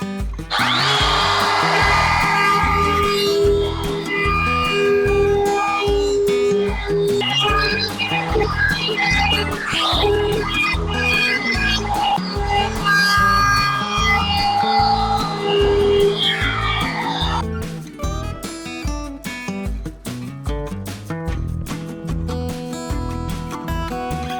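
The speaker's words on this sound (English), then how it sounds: "I'm just going to give it a bit of a clean up, a quick sand, get rid of some of the bandsaw lines" Power sanding a wooden bowl to remove bandsaw lines: a continuous whirring, scraping drone with a steady rhythmic pulse running throughout, loud and close, with no talking.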